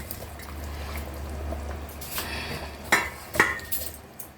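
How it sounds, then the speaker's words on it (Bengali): Fried barramundi pieces go into a pot of simmering curry, a soft liquid bubbling followed by a few sharp metallic clinks of a utensil against the pan and light splashing. "এখন আমি ভেজে রাখা মাছগুলো দিয়ে দিচ্ছি।"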